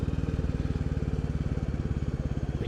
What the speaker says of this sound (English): The engine has become a lot more responsive,